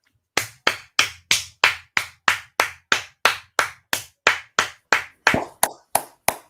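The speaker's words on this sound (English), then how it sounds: "Empress Copper Fox, a round of applause" A single person claps about seventeen times in a steady, evenly spaced rhythm, each clap sharp and close, with no other voices or crowd noise around it.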